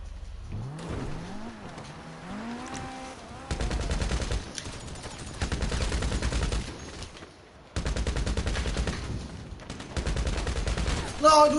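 Bursts of gunfire in GTA 5 Online, several loud sustained volleys separated by short pauses, with engine-like game sounds and a voice talking early on.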